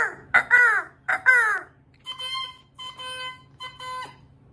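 A man imitates a crow with his voice, giving two loud, hoarse caws in quick succession. Sustained harmonic tones follow, like a reed instrument or beeping.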